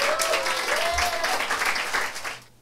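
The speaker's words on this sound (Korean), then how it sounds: "박수로 환영하도록 하겠습니다" A church congregation at a Korean Sunday service claps to welcome a visiting pastor from Israel, sustained, fairly close applause that fades out at the end while a voice carries over it.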